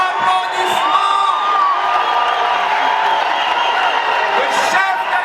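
A large indoor crowd of thousands cheers and whoops for the president and the first lady in a hall, with loud sustained shouting and whistles forming a dense, continuous roar.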